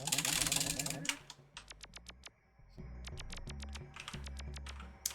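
A computer keyboard clatters in bursts of quick, crisp keystrokes, close and fairly loud, with short pauses between the runs of typing.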